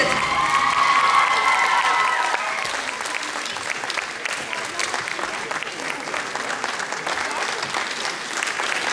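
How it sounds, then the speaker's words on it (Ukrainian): A large festival audience applauds the laureates of an international song competition's prize ceremony, steady dense clapping with some cheering and a brief announcer's voice at the start, continuing loud and close throughout. "Ваші аплодисменти усім лауреатам першої, другої, третьої премії фестивалю конкурсу «Кришталевий жайвір»."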